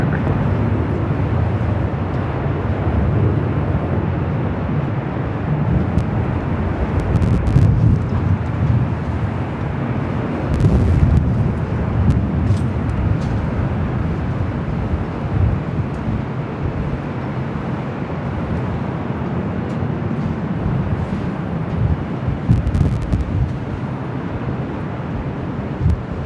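A jet airliner on Flight 8 to London Heathrow rolls along runway 24 right at LAX, giving a steady, loud, broad roar with gusty wind noise and a few swells, and no talk.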